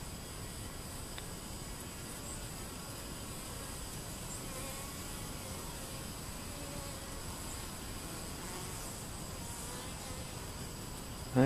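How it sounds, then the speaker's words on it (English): Faint, steady honeybee buzzing around a hive drones on without pause, soft and distant against a quiet outdoor background. "They're just buzzing around."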